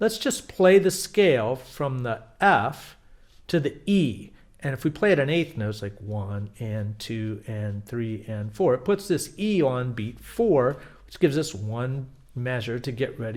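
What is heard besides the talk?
None of the usual background noises is heard.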